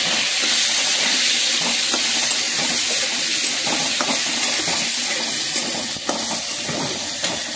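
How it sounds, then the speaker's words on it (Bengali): Steady, loud sizzling of potatoes frying in a pan with cumin seeds, with a few faint clicks and stirring taps and no talking. "এবার আস্তে আস্তে আলু ভাজা হবে"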